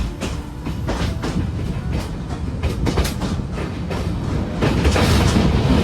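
A Vietnam North-South Railway train rolls slowly over the Hai Van Pass, loud and close, its wheels beating out a regular clickety-clack over a heavy rumbling drone.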